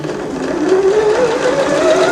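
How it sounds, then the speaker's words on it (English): A sewing machine top stitching a seam on a lace dress gives a steady, close whir with a slightly rising tone, running without a break. "I'm actually going to trim off the excess and then top stitch it down."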